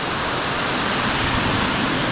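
Raging water at a waterfall beside a weir on Fridays Creek, Coffs Harbour, New South Wales: a loud, steady, close-up roar of broadband rushing water filling the whole clip with no voices.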